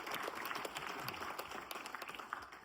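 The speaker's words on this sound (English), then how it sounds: "Give her the round of applause." A small audience at a magic show applauds, scattered individual claps with a few sharper hits, fairly faint and distant.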